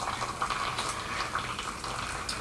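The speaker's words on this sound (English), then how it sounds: "just gently pour your water from your electric kettle in there with" Hot water from an electric kettle pours gently over a McCormick pepper grinder, making a steady, close splashing trickle that runs the whole time.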